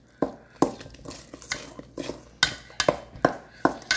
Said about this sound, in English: Now, we're going to mix this together. Mix, mix, mix, mix.